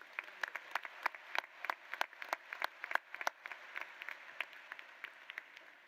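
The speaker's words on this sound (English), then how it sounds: "Let's give them a round of applause." Scattered, fairly distant applause from a small crowd, irregular claps rising and gradually thinning out.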